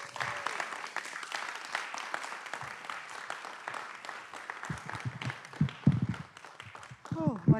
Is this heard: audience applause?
yes